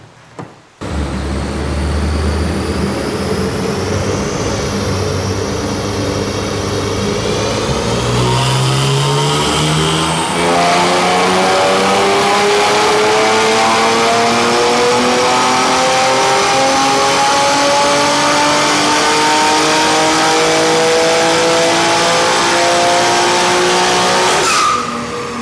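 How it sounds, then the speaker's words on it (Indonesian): A modified BMW M3 F80 straight-six revs hard on a dyno, climbing steadily in pitch through the gears for about twenty-five seconds, loud and close with a rough, raspy exhaust note and no talking. "sekarang kita coba, kita tes dyno mobil ini."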